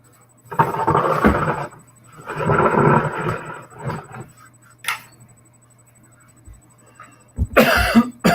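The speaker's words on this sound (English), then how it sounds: "Cough." Harsh, raspy coughing comes in two long fits, then a few smaller coughs and throat noises, loud and close.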